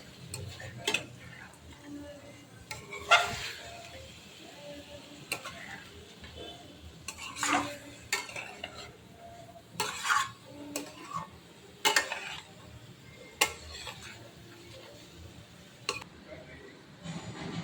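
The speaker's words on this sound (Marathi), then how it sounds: "हे आपण हलवायचं आहे व्यवस्थित" A spoon stirs chicken curry in a pan with a Marathi-style green chili masala, giving scattered close clinks and scrapes against the metal at an uneven rhythm over a low background murmur.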